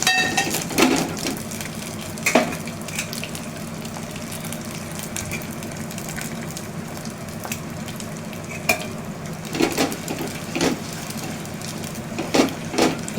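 Grated jaggery stirred in a pan as it melts, a steady soft sizzle with scraping spoon strokes and occasional sharper clinks against the metal, close and continuous.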